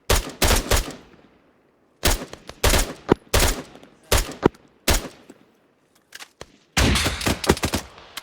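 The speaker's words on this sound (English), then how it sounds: "Bravo, suppressive fire to the right." Suppressive gunfire in the video game Arma 3, loud bursts of rapid automatic fire in several clusters separated by short pauses, with scattered single shots, no talking.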